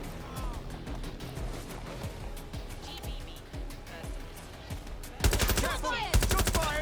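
Rapid bursts of automatic gunfire in the video game Watch Dogs: Legion, crackling in quick rhythmic volleys, with a louder, closer stretch of fire near the end.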